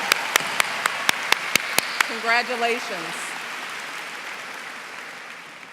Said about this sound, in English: another round of applause for the families